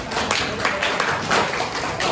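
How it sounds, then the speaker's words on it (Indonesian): Students in an informatics class clap for a group that has just presented, a moderate, steady patter of applause with scattered individual claps throughout. "tepuk tangan untuk kelompok 8"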